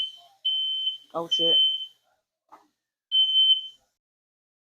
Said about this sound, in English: Not the smoke detector showing me that it can go